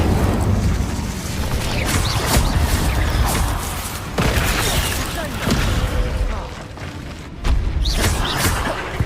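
Incendio fire spell cast in the Hogwarts Legacy video game, loud fiery bursts and booming whooshes over continuous rumbling game effects, with a louder burst near the end.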